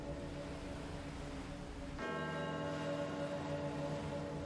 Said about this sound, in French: Pourquoi est-ce que la cloche retentit?